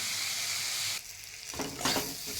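Spice paste for a Bengali fish curry (macher jhol) sizzles in a hot pan as it is stirred, giving a loud, close crackle with a short scraping stir that breaks the frying sound.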